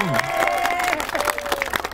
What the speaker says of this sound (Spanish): Aplauso para la señora.